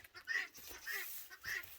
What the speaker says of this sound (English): my birds are real loud today